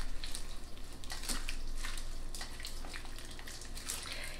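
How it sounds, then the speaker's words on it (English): Taco soup is stirred in a crockpot: wet sloshing and swishing with scattered light spoon clicks against the pot, close up and continuous, with no talking. "Now I'm gonna just stir this around"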